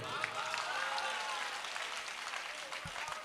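A live poetry recital audience claps steadily for about three seconds, a dense, moderately distant burst of applause that fades slightly toward the end.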